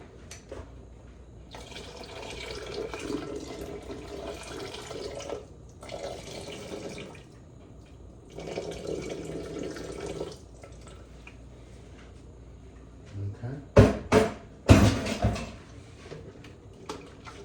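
Tap water runs into a pot for broccoli cheddar soup in three separate bursts of steady hiss, each a few seconds long, followed by a few loud sharp clunks of the pot near the end.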